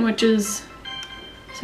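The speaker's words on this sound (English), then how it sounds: "that was my phone" A mobile phone gives a short tonal ring or notification chime under someone speaking, brief and moderately loud, heard while she curls her hair with a Conair Infiniti curling iron.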